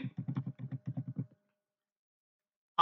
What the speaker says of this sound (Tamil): மொபைல் நம்பர் டைப் பண்ணுங்க ஓடிபி வெரிபிகேஷனுக்கு